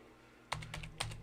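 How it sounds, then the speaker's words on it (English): Fingers tap on a computer keyboard, a short quiet run of distinct clicks in uneven rhythm, heard up close without speech. "So I'm going to type in here Orlando."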